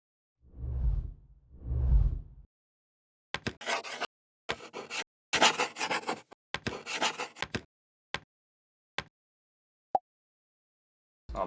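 Soft, close pencil strokes scratch across paper for a beauty care product commercial, two low brushing sweeps first and then a series of quick rasping scribbles and short ticks, quiet and dry with no music or voice.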